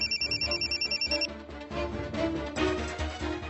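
An electronic phone ringtone trills in a rapid pulsing pattern for about a second, then stops, leaving low background noise and faint movement.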